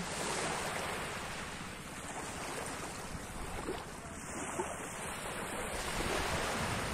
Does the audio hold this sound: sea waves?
yes